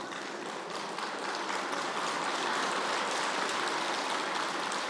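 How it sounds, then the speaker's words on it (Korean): Steady, dense clapping from a crowd, sustained at an even level throughout without pauses or voices on top. "이제 박수 치지 마세요."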